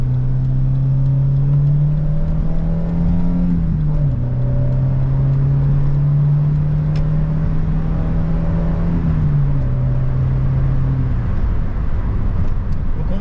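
A 1987 Peugeot 309 SR with a 1.6-litre 80 hp engine pulls hard through the gears, its loud, close engine drone rising in pitch, dropping at each shift, then climbing again over road and tyre rumble.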